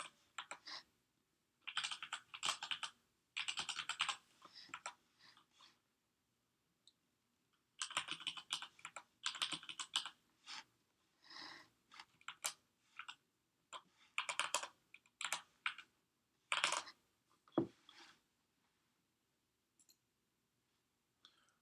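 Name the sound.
typing on a computer keyboard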